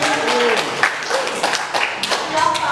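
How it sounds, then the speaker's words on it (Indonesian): Audience clapping in a classroom or training session, a short burst of hand claps and taps from a modest group, close and fairly loud, with a few voices mixed in. "terima kasih untuk tepuk tangan dulu"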